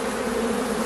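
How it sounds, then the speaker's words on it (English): Honey bees buzz around an open hive during an inspection, a dense, steady droning hum filling the short moment close by with no voices. "Bees are going to be on me today."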